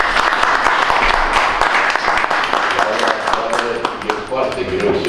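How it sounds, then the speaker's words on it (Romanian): Audience applause at a national poetry criticism festival, a dense burst of many hands clapping, loud and close, with a voice speaking over it and the clapping thinning slightly toward the end. "Vă rog să-l aplaudați!"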